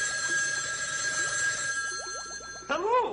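A telephone bell rings in a steady trill under a voice, then cuts off as a short exclamation is heard.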